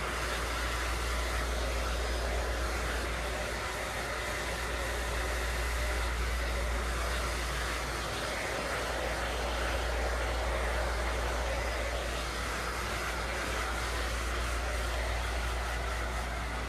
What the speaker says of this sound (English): I'll switch hands with my blow dryer